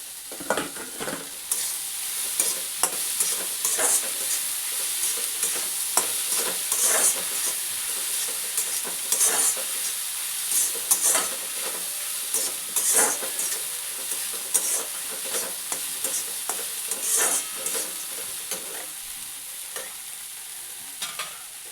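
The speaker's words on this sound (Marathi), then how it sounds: "आणि चांगलं मिक्स करून घेणार आहोत. आणि त्यामध्ये ॲड करणार आहोत भिजवलेले मुरमुरे." Soaked puffed rice is stirred into a frying onion mixture with turmeric, giving a steady sizzle and hiss throughout while a spoon scrapes and clatters the pan in frequent, irregular strokes, with no voices.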